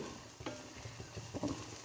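Upma ingredients roast in a pan with a soft, continuous sizzle and light scraping of a stirring spoon, quiet and close with no talking.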